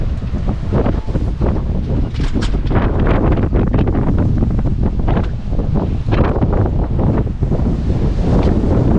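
Heavy, continuous wind buffeting the microphone outdoors near a quarry, a loud roaring rumble with gusty surges throughout and no voices.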